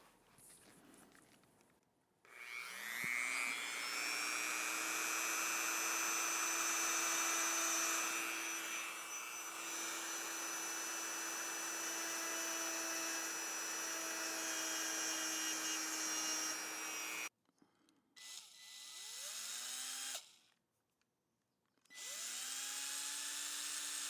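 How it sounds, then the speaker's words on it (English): Drill bit grinding a hole into a piece of glass, a steady high whine running for about fifteen seconds, then stopping and restarting in short bursts with brief pauses between. "I'm going to try drilling the hole in the piece of glass."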